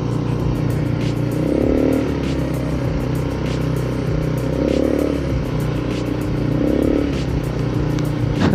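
A 250cc motorcycle on a ride, its engine droning steadily with several rising rev surges, close and loud over road and wind noise, no talk heard.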